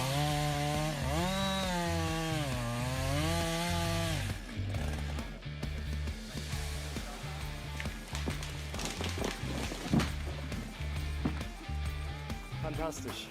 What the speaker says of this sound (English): at that time the power of chainsaws had already developed like this.